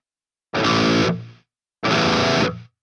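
High-gain guitar distortion from a plugin with the noise gate switched off, two sustained heavily saturated chords each about half a second long, ringing into a hissy noisy tail as they fade instead of cutting to silence.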